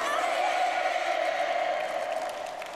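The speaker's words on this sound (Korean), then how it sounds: "궁전 지도 교원들과 학생들이 끝없는 격정의 환호를 터쳐 올렸습니다" A large crowd of teachers and students at the Mangyongdae Students and Children's Palace roars with sustained, fervent cheering as Kim Jong-un arrives, a steady wall of voices that eases off slightly near the end.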